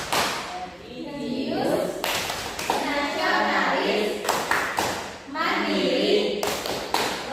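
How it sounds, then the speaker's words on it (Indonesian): Children perform the tepuk PPK clapping chant in a classroom: sharp, rhythmic bursts of hand claps that alternate with short spoken chant lines. "kita tepuk PPK terlebih dahulu ya. 1, 2, 3, tepuk PPK."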